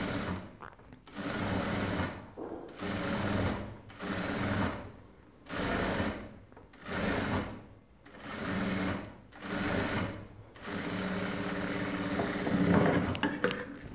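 A sewing machine stitches a pointed collar seam in about seven rhythmic bursts of rapid mechanical whirring, separated by short pauses, close and clear.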